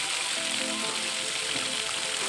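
Boneless chicken pieces hitting hot oil in a pan over a full flame for Chettinad chicken fry, a loud continuous close sizzle with no voices.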